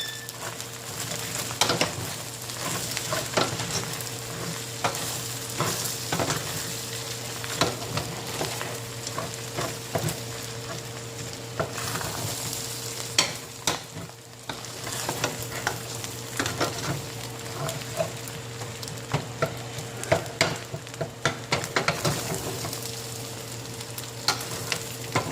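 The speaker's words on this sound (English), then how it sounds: "Now let's stir it up." A big batch of eggs and rice, seasoned with Tony's, fries in a pan with a constant sizzle while a utensil stirs it, sending frequent sharp clicks and scrapes against the metal.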